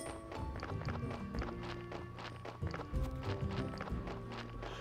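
Video game hooves of a donkey clip-clop steadily in Graveyard Keeper, a quick regular patter under looping game music and ambience.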